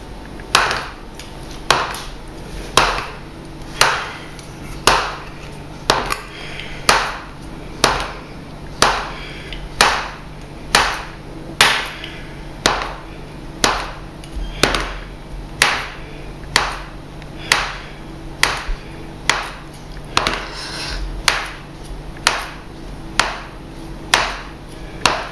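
A knife chopping through rolled homemade tagliatelle pasta dough on a board: a steady, even run of sharp close thuds, roughly one per second, continuing for about twenty-five seconds with no talking.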